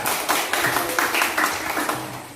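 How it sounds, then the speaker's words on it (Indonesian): Applause from a classroom audience greeting a student group about to present on computer hardware, a dense patter of hand claps sustained through the moment with no talk over it. "Tepuk tangan untuk kelompok 3."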